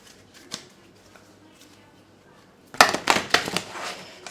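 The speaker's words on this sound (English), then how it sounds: "So I'm going to pull tarot cards for that." Tarot cards being shuffled, with a few faint taps at first, then a burst of loud, close riffling and snapping card sounds in quick succession.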